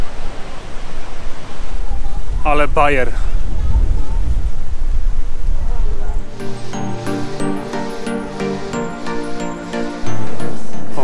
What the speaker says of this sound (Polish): Znaleźliśmy wodospady, są tam.